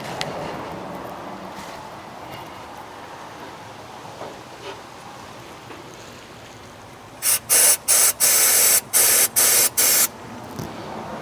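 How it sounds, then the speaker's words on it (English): Starting fluid is sprayed into the carburetor of a long-abandoned 1965 Chevrolet C10 with a 292 inline six, a series of sharp, loud hissing bursts of varying length after several seconds of quiet background noise. "Use some starting fluid until we siphon gas up to the"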